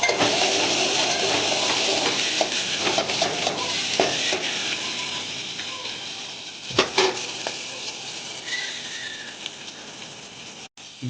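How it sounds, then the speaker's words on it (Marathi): Chopped onion drops into green chillies frying in a pan, bringing a steady, close sizzle broken by a few stirring scrapes and clatters of a utensil against the metal, with no one talking. "त्यानंतर हिरव्या मिरची कापलेल्या थोडं शिजल्यानंतर त्याच्यामध्ये कांदा टाकून घ्यावा कापलेले."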